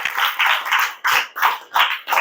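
Rhythmic group clapping from a classroom of students, a few quick bursts of hand claps close by in a steady, patterned beat.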